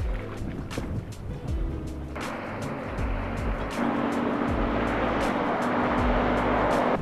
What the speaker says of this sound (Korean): 웬 찻소리인가 했는데 뱃소리였어요